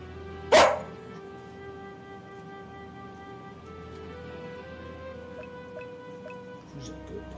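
A dog in a video game gives one sharp, loud bark, then settles into soft whimpering and whining sounds over a low, steady background hum.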